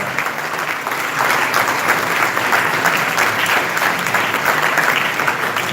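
An audience gives a sustained round of applause at a Save Soil talk, honoring a young man who cycled alone through eight states; dense, steady clapping fills the whole stretch, swelling slightly after the first second and holding loud without talk.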